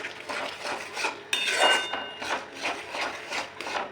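Cashew paste for a Bengali prawn malai curry is stirred in a pan over a low gas flame, with a spoon rubbing and scraping in a steady back-and-forth rhythm, close and fairly soft, with no talking.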